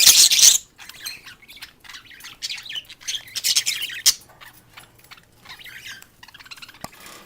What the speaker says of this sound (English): There goes the budgie taking a bath.